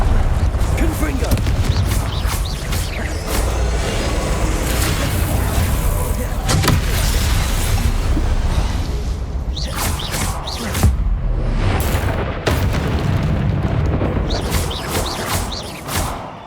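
Confringo blasting spells fire off in Hogwarts Legacy combat: a dense run of sharp bursting blasts and impacts over continuous battle noise, loud and close, with several sudden cracks toward the end.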